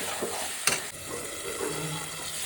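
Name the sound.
sautéing masala in pan for duck curry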